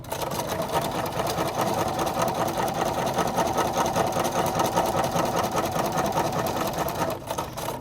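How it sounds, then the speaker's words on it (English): A home sewing machine runs steadily, stitching quilt squares together with a quarter-inch seam around each piece's perimeter; a close, continuous mechanical whir and rapid needle clatter that hold for several seconds before briefly easing near the end. "Here at the machine, I'm going to sew one after another using a 1/4 inch seam allowance"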